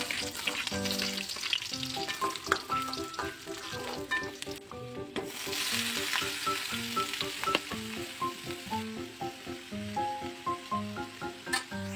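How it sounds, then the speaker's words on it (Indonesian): Fish and vegetables fry in a pan with a steady, crackling sizzle close by. Utensil clinks and scrapes from stirring punctuate it throughout. "jadi sayuran dan ikannya udah selesai saya cuci dan ini langsung aja mau saya masak"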